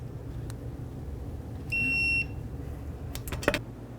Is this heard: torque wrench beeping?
yes